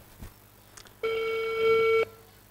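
A single steady ringback tone on an outgoing telephone call, lasting about a second, sounds close and clear against a quiet background.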